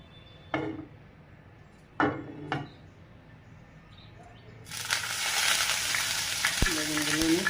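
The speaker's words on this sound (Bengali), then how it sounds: "বেগুন সরিষার তেল দিয়ে ভাজি করলে ভালো লাগে" Eggplant frying in mustard oil: a few quiet knocks of handling, then a sudden loud, steady hiss as the pieces hit the hot oil, continuing close by with a brief voice near the end.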